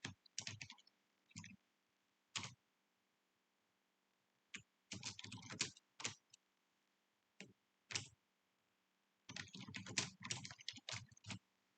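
Keystrokes on a computer keyboard while entering slide text, coming in short bursts of rapid clicking separated by pauses, close and clear with no talking.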